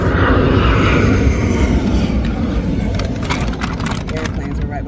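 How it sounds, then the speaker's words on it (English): An airplane roars loud and close near an airport, a broad, sustained engine rumble that slowly fades. A voice talks over part of it. "Airplanes were right by the airport."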